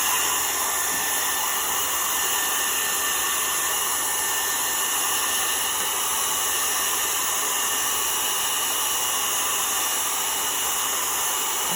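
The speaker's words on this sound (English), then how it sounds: "So I use a blow dryer." A blow dryer used on a chalk-decorated spinning bistro board runs steadily throughout, a loud, even whoosh of rushing air with a constant hum and no pauses or voices.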